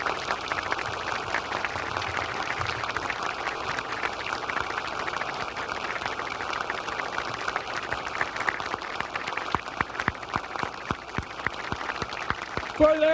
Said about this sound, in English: I'd like to ask all of you to stand up and clap for those